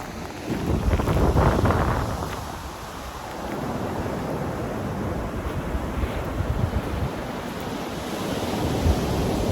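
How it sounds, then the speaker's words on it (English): Ocean surf rolls and breaks steadily on a beach, with a constant wash of water and some wind rumble against the microphone. "Let you see a couple of waves one more time."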